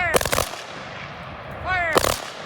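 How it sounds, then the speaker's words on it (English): Memorial Day ceremony rifle volley in Chaska: two sharp, loud, crackling volleys about two seconds apart, each preceded by a shouted command, ringing out in open air. "Ready. Aim. Fire. Fire."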